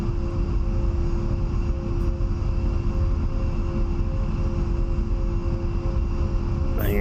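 A-10A jet taxiing in the DCS flight simulator: a steady, droning turbofan whine with a constant hum and rumble, even and unbroken throughout, close and moderately loud.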